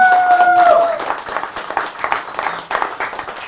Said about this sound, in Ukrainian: Оплески, будь ласка.